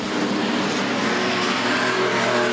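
Race cars roar around a circuit in a continuous loud, dense engine drone, several machines overlapping close by with no voices.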